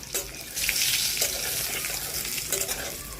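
Potatoes fry in a kadai over an open wood fire, giving a steady, fairly loud hiss and crackle that runs the whole way through with no voices.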